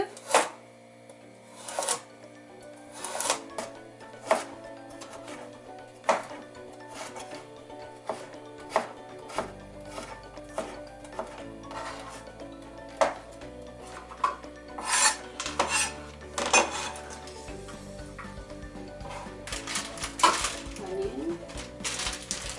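Knife chopping through an onion on a cutting board for Korean japchae stir-fry noodles, a string of crisp, uneven cuts, close and fairly loud, with a speaking voice woven between them.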